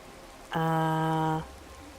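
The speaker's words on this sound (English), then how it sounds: "Yes, still raining." Steady rain hisses through a rainy outdoor scene in Skyrim VR, a continuous soft wash that runs the whole time. A loud, sustained tonal sound rises over it for about a second in the middle.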